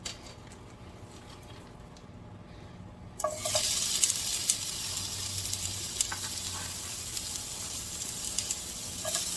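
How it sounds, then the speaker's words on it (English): Onions sauteing in a pan, a steady loud sizzle that bursts in after a quieter start and keeps hissing and crackling close by, with occasional stirring clicks. "We're going to saute these onions, and we're going to add a little seasoning."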